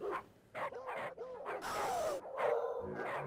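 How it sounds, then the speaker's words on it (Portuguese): A dog in the Mortal Kombat fighting game gives a string of short, bouncy barks and yips, some rising into whiny cries, against game noise. "olha o tamanho desse cachorro."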